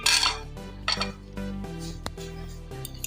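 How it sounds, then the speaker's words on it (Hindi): Half a kilo of yogurt is spooned into a bowl for potato raita, with close metallic clinks and taps of a spoon against the dish in an irregular series. "अब मैं इसके अंदर ये दही डाल रही हूँ, आधा किलो दही है।"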